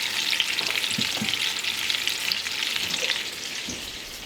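Meatballs fry in a pan, a steady close sizzle broken by a few soft clacks and scrapes as tongs turn them, with no talk.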